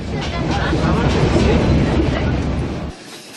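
A loud, rumbling train ride in Myanmar with clattering rail noise and a person talking over it, cutting off abruptly near the end.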